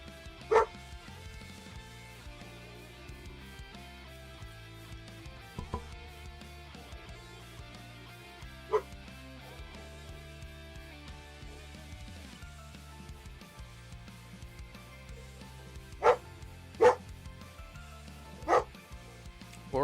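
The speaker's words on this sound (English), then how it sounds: "guys, you got to hear barking" Dog barks sound now and then over a busy musical background. There are a single bark early, one in the middle, and a cluster of three near the end.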